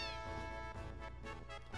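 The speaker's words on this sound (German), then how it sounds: "Das soll eine Katze da oben sein" A cat meows in the Final Fantasy 7 video game, a short, faint, tonal, harmonic call with a few pitch rises lasting under two seconds and heard on its own.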